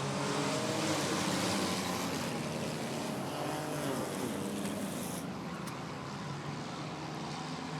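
A pack of race cars at Rockford Speedway accelerates as the green flag drops, a dense, continuous engine roar heard from a distance that stays loud and steady throughout.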